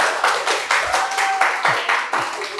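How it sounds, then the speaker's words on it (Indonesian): Applause at a forum on Acehnese oral tradition, a crowd clapping in uneven bursts of loud, close hand strikes that swell and fade in waves, with a faint voice or tone underneath. "Boleh berikan tepuk tangan sekali lagi."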